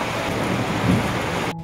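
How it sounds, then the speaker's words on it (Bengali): Heavy monsoon rain pours outside a house during a lunchtime meal, a dense, steady hiss and wash that holds even for the short stretch before stopping abruptly. "বাইরের ওই যে বৃষ্টির ঝাপটাটা আসছে, ওটা খুব মজা লাগছে"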